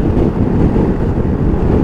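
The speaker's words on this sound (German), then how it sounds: "Ich höre nur den Wind." Loud, constant wind roar buffeting the microphone while riding a 2021 Piaggio Beverly 400 S scooter, a dense low rumble with no other clear sounds.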